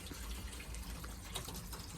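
Water flows steadily through a pond filter as its valve is turned for a backwash, a faint continuous gushing wash with small splashy surges throughout.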